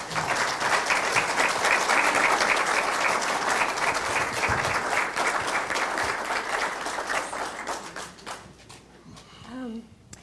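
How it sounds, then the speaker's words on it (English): An audience claps loudly after a talk on independent living after high school, dense applause for about eight seconds that then fades, with a voice briefly heard near the end. "You want to give these guys a round of applause?"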